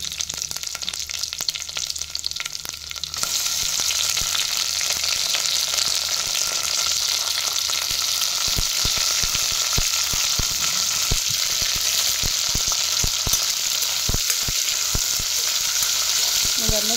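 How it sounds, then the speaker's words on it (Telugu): Onions, curry leaves, green chillies and tomato fry in hot tempering oil for a bottle gourd curry, a loud continuous sizzle with sharp stirring clicks and scrapes joining partway through. "మనం కట్ చేసి ఉంచుకున్న ఆనియన్స్, కరివేపాకు, మిర్చి, టమోటా ఇవన్నీ యాడ్ చేసుకోవాలి"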